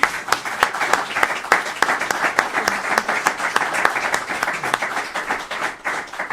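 Applause from a small audience, a steady run of distinct hand claps with individual sharp hits audible throughout, close and moderately loud.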